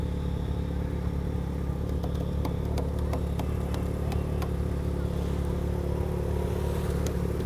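A KTM Duke motorcycle engine idling with a steady low rumble and mechanical whir, a few light clicks ticking over it near the middle.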